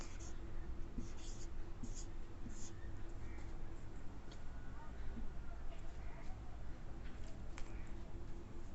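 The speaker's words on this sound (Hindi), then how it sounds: "तो यहाँ पे ऑप्शन लिख लेते हैं" Marker writing answer options on a board during a reasoning class, a faint, steady scratching with short stroke bursts running under a quiet room tone.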